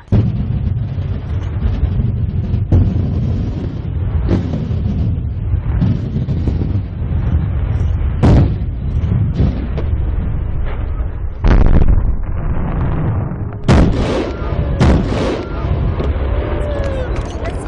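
Daytime fireworks going off outdoors in a string of loud, sharp bursts and pops at irregular intervals, with wind buffeting the microphone and voices talking between blasts.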